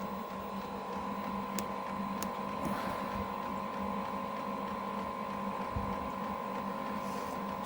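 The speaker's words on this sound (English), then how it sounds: "pump's still running." Fuel pump of a Chinese diesel heater running, a steady faint mechanical hum with a fixed tone and a few light ticks, continuous and unchanging.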